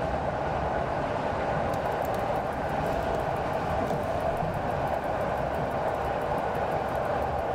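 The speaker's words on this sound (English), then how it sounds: "I love the ticking in the background as you're driving along" Steady rumbling drive of an EN57 electric multiple unit train in the SimRail video game, with a rapid, regular ticking running over it throughout, loud and continuous.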